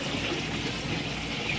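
Water pours steadily into a 90 gallon aquarium as it fills, a continuous rushing stream with no voices.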